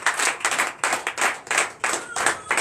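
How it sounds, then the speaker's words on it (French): Church congregation clapping in acclamation during a Sunday service in Comè, Benin: several loud bursts of group applause in an uneven rhythm, swelling and fading repeatedly with no talking. "Donnez l'acclamation à l'Éternel."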